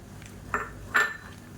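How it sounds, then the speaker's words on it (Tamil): A utensil stirs rice flour into boiling water in a metal pot on the stove for sweet milk kozhukattai, giving two distinct metallic clinks against the pot over a quiet kitchen background. "அந்த அரிசி மாவை அப்படியே கொஞ்சம் கொஞ்சமாக சேர்த்து கிளறி விட்டுக்கலாம்"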